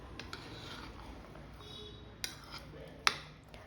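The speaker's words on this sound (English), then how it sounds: "mix all the ingredients" Utensil clinks against a bowl while diced cheese, chili flakes and mixed herbs are stirred together for roti pizza: a few sharp metallic taps, one louder near the end, over a quiet background.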